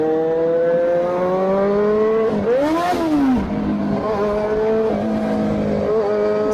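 Several motorcycle engines, including big bikes, drone steadily at close range on a group ride, one rising and falling in pitch as it passes by, with a continuous traffic hum.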